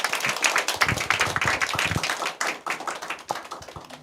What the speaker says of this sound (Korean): 우리 기도해 주겠습니다 하는 마음으로 축복의 박수 보내주겠습니다.